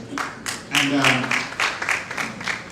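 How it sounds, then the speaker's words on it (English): Conference audience at a Sierra Leone diaspora agribusiness event clapping for a chamber of commerce council member, a steady patter of hands with a voice talking over it. "And that's the chamber, just clapping for him there."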